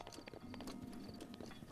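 Horse hooves clip-clop in a rapid, uneven rhythm in the Breath of the Wild video game, soft and fairly quiet with no talk over them.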